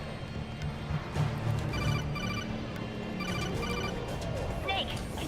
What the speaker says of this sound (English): I used to have the codec noise as my ringtone